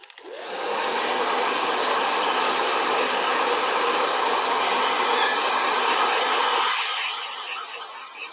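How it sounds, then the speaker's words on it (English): A hair dryer switches on and blows with a loud, steady whooshing roar for several seconds, then cuts down to a softer airy hiss. "Blow dryer."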